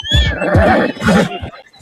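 A loud, close horse whinny in Red Dead Redemption 2, shrill and quavering, followed by a snorting breath, with a faint ringing tone in the background.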